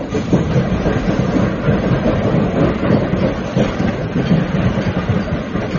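A train runs on rails as an audio drama sound effect: a loud, continuous rumble with rhythmic clatter throughout and no voices.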